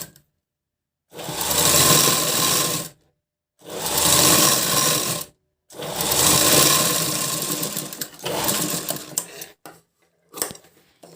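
A sewing machine stitching a blouse whirs loudly and steadily in three long runs of about two seconds each, separated by short silent pauses, then gives a few shorter stop-start bursts.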